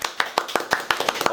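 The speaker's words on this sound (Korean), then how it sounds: "박수!" Brisk hand clapping from a small group in an indoor studio, sharp close claps in a quick uneven rhythm lasting just over a second, with a voice briefly over it.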